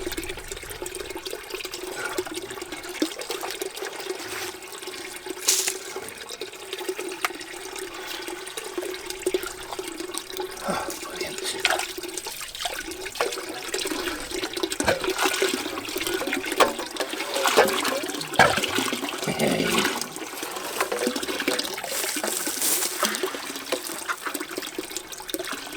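Water running and trickling steadily through a freshly cleared pipe and filling a farm tank, a continuous close wash of flow with slight surges.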